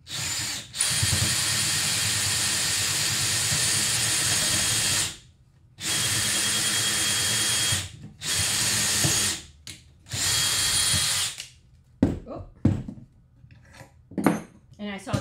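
A battery-powered drill runs loud and close while a grill cart frame is built, in several long whirring bursts separated by brief pauses. Scattered clanks and knocks of handling follow at the end.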